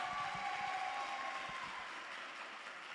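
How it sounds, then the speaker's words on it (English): A youth audience at a weekend event claps in a steady, moderately loud round of applause that fades slightly toward the end. "applause."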